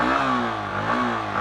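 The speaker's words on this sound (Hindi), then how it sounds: "अगर मैं आपको एग्जॉस्ट नोट इसका सुना पाऊँ, एग्जॉस्ट नोट इसका कैसा है" A 2025 Yamaha R15M MotoGP Edition motorcycle revs close by, its exhaust note rising and falling in two quick throttle blips over a steady mid-pitched engine drone, with no talk.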